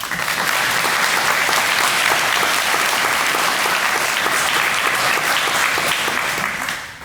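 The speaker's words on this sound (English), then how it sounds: "Round of applause for these two" Audience applause at a fire department honors and awards ceremony for two firefighters, thick sustained clapping from a large crowd, loud and even throughout before tapering off at the very end.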